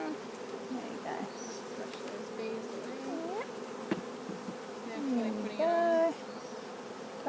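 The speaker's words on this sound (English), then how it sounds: "There are a few bees left. We can just place the nuke off to the side, near the front, and the rest of the bees will make their way over to the new hive themselves." Honey bees buzz around a beehive where a nucleus box has just been set beside it, a dense near droning with individual bees whining past, louder toward the end.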